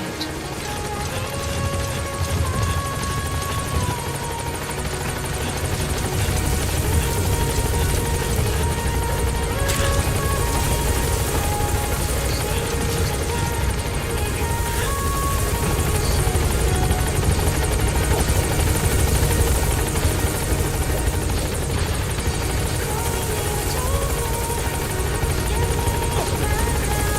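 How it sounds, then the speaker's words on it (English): Support helicopter arriving in the video game Metal Gear Solid V, loud continuous rotor thumping and engine roar close by, with a brief in-game voice and other game sounds mixed in. "Support helicopter has arrived."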